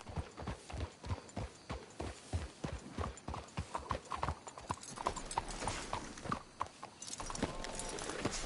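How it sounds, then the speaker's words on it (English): Horse hooves clip-clopping in Red Dead Redemption 2, a rapid rhythmic gait of close, sharp hoofbeats that continues throughout, slowing slightly near the end as a low rumble rises beneath. "Let's hitch the horses up ahead."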